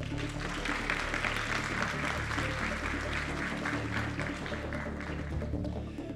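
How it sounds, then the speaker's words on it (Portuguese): An audience at a business panel in São Paulo breaks into sustained applause, a dense, even clatter of many hands clapping that keeps going for several seconds at a moderate distance. "Palmas para o Bruno."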